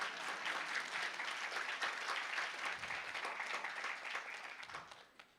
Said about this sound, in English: you can all clap for that, come on.